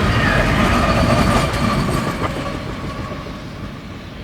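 CN freight train B731 rolls past on the rails at St. Andre, loud and close, with rhythmic clickety-clack and faint wheel squeal fading slightly as it goes by.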